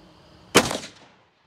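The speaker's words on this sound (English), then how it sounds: "Another rim shot." A single sharp gunshot strikes a car wheel rim outdoors, a loud close crack followed by a short fading metallic ring, with no talk.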